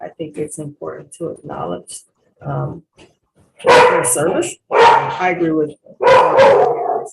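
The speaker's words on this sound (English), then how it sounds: "Sorry about the dog." A dog barks in the background of a police accountability board meeting, heard as short sharp yaps at first and then several louder barks that overlap the talk.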